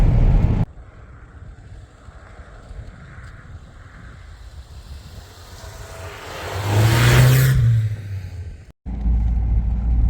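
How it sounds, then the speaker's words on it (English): A 1988 Toyota pickup drives through deep snow drifts in bitter cold, its engine a steady rumble under heavy wind noise, swelling into a louder rush and rising whine midway before a brief cut. "This is actually pretty sketchy because you can't tell where the road ends on either side and don't know how deep the snow drifts are, but Toyota's making it very easily"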